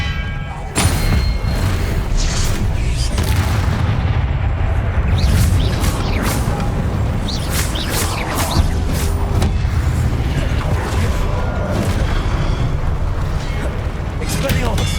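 Repeated Expelliarmus spell blasts in the Hogwarts Legacy video game, heavy booming thuds rolling one after another under steady loud rumble, with voices talking throughout.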